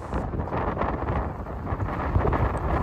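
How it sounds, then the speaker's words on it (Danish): Strong gusty January storm wind blows outdoors beside a Danish motorway, a steady, loud rumbling roar buffeting the microphone without pause. "15 meter i sekundet middelvind, 4-25 meter i sekundet i vindstødene"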